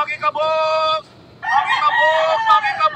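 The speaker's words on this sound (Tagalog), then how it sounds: "Ang daming ibon. Daming ibon." Roosters crow loudly and close by, one long call followed by overlapping crows from several birds, with faint clucking underneath, in Mindanao.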